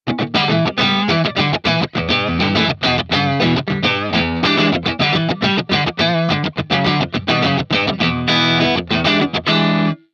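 An electric guitar plays through a Hotone Ampero modeling a Marshall Silver Jubilee at the edge of breakup, loud, lightly crunchy chords and riffs with brief gaps and a ringing final note.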